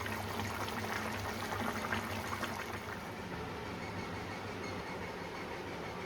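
Thin chicken curry gravy simmers in a pot with dried chillies, giving a steady low bubbling and soft hiss at close range, fairly quiet and continuous with no talking.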